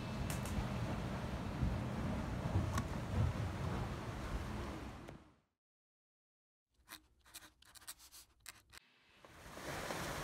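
Strong wind and waves roar around a sailboat at sea at night, a dense rushing noise that cuts to silence midway, then returns with scattered knocks and swelling wind.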